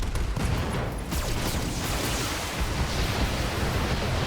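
Weapon fire from a mech in BattleTech, a dense, roaring barrage of shots and blasts that holds steady and loud for the whole stretch, with no talk.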